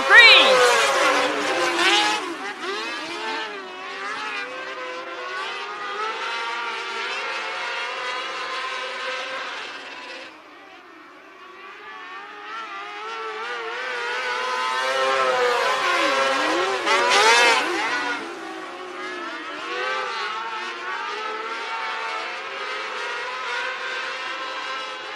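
Winged outlaw sprint-type race cars circling Marion County Speedway during a heat race, engines droning and revving steadily with a louder surge as the pack passes, under continuous announcer commentary.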